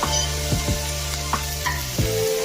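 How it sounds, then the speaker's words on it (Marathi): Tomatoes, garlic cloves and ginger pieces sautéing in half a spoon of oil in a pan, giving a steady sizzle with a few soft scraping stirs, close and alone with no voices. "हे आपल्याला सगळं चांगलं परतून घ्यायचं आहे"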